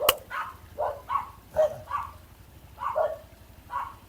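Several dogs barking in a repeated, uneven series of sharp yelps and barks at moderate distance beside a road in the Philippines, with no talk over them.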